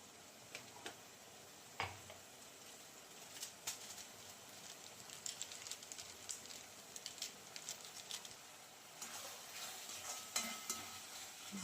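Veg Manchurian mixture with soy sauce and salt being stirred in a pan, soft scraping and tapping strokes at an irregular pace over a faint sizzle, quiet and close with no talking.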